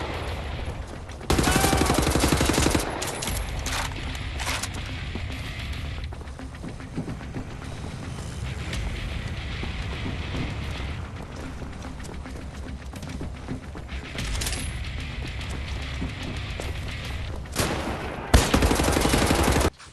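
Gunfire in the shooter game Wolfenstein: The New Order: rapid bursts of automatic shots, loud and close, clustered at the start and end, with quieter combat noise and scattered shots in between.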